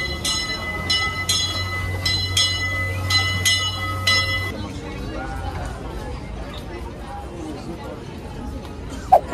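The Disneyland Railroad train from the New Orleans station runs with a bright, repeating whistle or bell tone over a low rumble for several seconds, then park crowd murmur and chatter carry on quietly.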